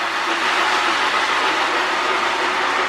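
Lionel 2046 Hudson postwar model steam locomotive running with a Rail Sounds tender, giving a steady, continuous rushing chuff and rail rumble at close range with no talk.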